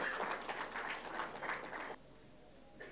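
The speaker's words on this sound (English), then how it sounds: "So can we have a huge round of applause for Dr." An audience at a marathon press meet claps in a short round of applause, moderately loud and steady, then stops abruptly about two seconds in, leaving quiet room tone.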